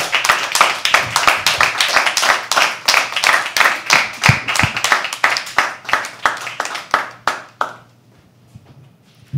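Audience clapping steadily at a live poetry open mic at The Habitat, a dense run of close claps lasting several seconds before tapering off into quiet.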